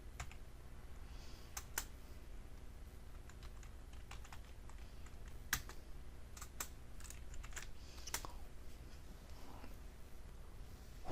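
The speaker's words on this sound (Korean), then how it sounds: "한국이라고 한국어라고 입력을 하시고 스페이스 키를 눌러 가지고" Typing on a computer keyboard while entering Korean text and pressing the space key, a steady run of close, light key clicks over a low background hum, with no talking.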